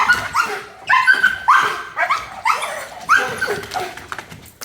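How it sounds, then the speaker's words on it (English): A police dog barks and yelps repeatedly in short, agitated bursts at close range during an arrest, the barks coming roughly every half second with whimpering between them. "My dog will bite."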